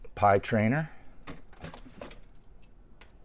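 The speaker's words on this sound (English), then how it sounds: "You guys might hear my dog in the background there with her name tags rattling." A dog's metal name tags jingle and rattle in a few short, bright bursts in the background, following a brief stretch of nearby talk at the start.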